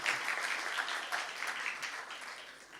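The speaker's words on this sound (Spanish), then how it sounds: "Ahí sí, aplauda." Church congregation applauding during a Sunday sermon, a steady wash of many hands clapping at moderate volume, continuing evenly throughout without speech over it.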